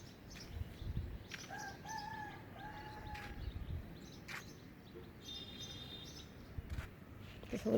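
Chickens call and cluck in an early-morning village yard, with scattered short squawks and chirps at moderate distance over a soft, steady outdoor background.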